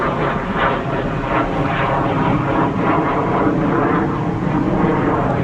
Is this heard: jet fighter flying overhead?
yes